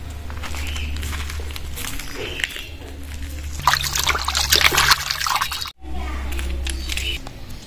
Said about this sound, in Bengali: মাছটা ভালো করে ধুয়ে নিয়ে আসলাম।